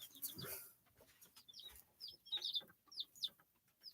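Small chickens give a series of short, high, faint peeping clucks, scattered over a few seconds, with a brief louder rustle near the start and no talk.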